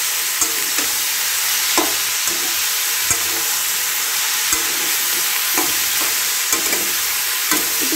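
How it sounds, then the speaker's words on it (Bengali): Reddened potatoes frying in a pan with salt while being stirred, a constant loud sizzle broken by regular scraping strokes of the spoon. "একটু নাড়াচাড়া একটু ভালো ভালো করতে হবে, লবণটা ভালো মতো মিশে যায়"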